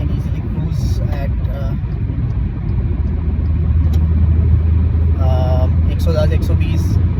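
Car cruising along a German highway during an office commute, steady low engine and road rumble from inside the cabin, continuous with a slight swell in the second half, under brief talk.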